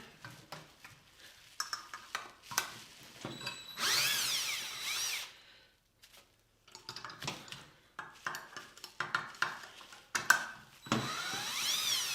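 A power drill fitted with a hex bit spins out wheel assembly bolts in bursts of whirring, separated by pauses and metallic clinks of bolts and tools, close and moderately loud.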